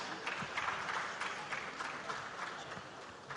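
An audience at an aviation conference gives the keynote speaker a warm round of applause, a sustained burst of many hands clapping in a hall, fairly distant and steady throughout.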